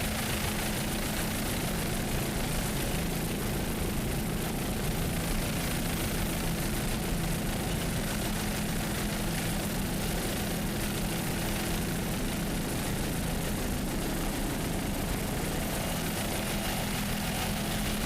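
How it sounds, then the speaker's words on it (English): Rindle racing powerboat engine at an APBA offshore powerboat race in St. Petersburg, a loud, steady broadband engine roar that holds constant throughout with no voices. "It's a Rindle powerboat."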